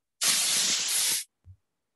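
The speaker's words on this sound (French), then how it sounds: "et on envoie toujours la vapeur un petit peu sur le côté, histoire de chasser la poussière" A steam cleaner sprays a loud, steady hissing jet of steam for about a second to chase dust while cleaning a child's bedroom, followed by a brief low thump.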